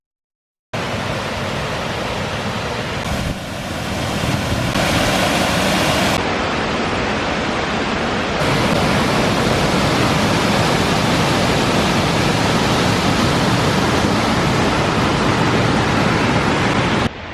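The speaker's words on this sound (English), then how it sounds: "So we've arrived at the waterfall" Foster Falls roars steadily nearby, a dense, broadband rush of falling water that grows slightly fuller after a few seconds and continues without pause.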